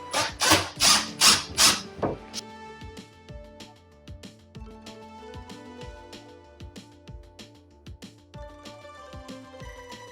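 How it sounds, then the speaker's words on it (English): A power drill driving fasteners into a kitchen cabinet during installation: a few loud, sustained whirring bursts at the start, then repeated short clicks and brief rattling spurts, close up with no talking. "Fastening the first cabinet in now."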